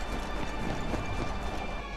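Liu Bei's horse in the video game Wo Long: Fallen Dynasty trots in a quick, busy clatter of hooves amid a dense wash of battle noise, fairly loud and continuous.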